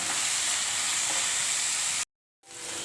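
Onions, sliced green chillies and curry leaves fry over a medium flame, giving a dense, even sizzle up close that drops out abruptly for a moment before resuming, with no voices.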